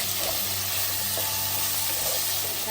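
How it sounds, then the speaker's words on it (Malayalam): Brinjal tipped into a hot pan of cooking tomato for brinjal masala, a steady loud sizzle and frying hiss throughout, with faint stirring scrapes beneath. "തക്കാളി, നന്നായി വരുമ്പോൾ വഴുതനങ്ങ ഇടണം."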